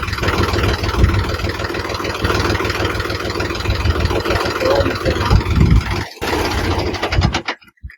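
A tractor engine runs steadily and close by in a rural farm setting, with a loud, continuous mechanical drone that cuts out abruptly near the end.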